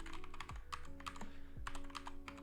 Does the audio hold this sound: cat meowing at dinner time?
no